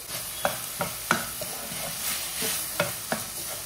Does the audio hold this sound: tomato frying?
yes